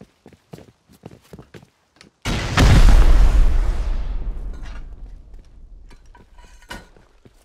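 Rocket explosion in the video game Rust: after a few light footstep-like taps, a sudden loud blast booms and rumbles, then slowly decays over several seconds as quieter steps return.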